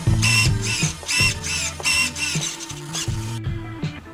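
A servo in a radio-controlled surfboard whirring in short bursts, several buzzy movements in a row with brief pauses between, close and clear.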